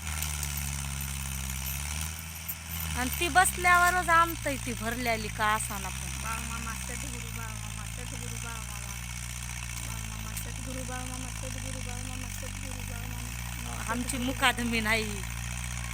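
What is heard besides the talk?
tractor engine idling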